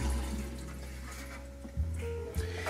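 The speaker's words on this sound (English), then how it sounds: "So I'm going to go ahead and throw this water out" Water is dumped out of a Lelit Bianca V3 espresso machine, a steady broadband splashing and pouring rush over a low hum, with a couple of brief clunks near the end and no talking.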